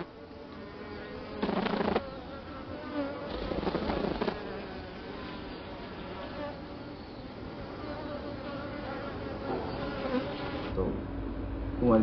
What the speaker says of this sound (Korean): 일본 꿀벌은 날개 진동으로 어떤 종류의 정보를 교환하는 걸까요?